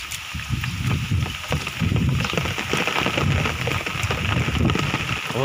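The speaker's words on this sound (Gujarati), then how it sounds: "વરસાદ આવ્યા ભેગો પવનની સ્પીડ વધારે" Rain pours over a farm field in strong gusting wind, a dense steady rush with buffeting wind noise on the microphone throughout.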